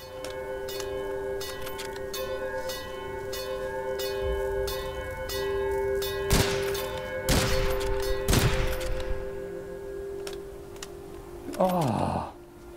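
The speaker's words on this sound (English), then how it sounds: "Still hear the bell." A bell rings in the Witchfire video game, sustained metallic tones hanging under the action, with sharp bursts of gunfire cutting through midway and near the end.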